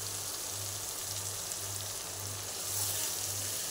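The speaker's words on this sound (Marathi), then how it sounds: "तर हे अशा प्रकारे तेलात चांगलं परतून घेतलं." Ground masala paste of onion and garlic sautés in oil for shipi amti, a faint, soft sizzle with a low pulsing hum running underneath.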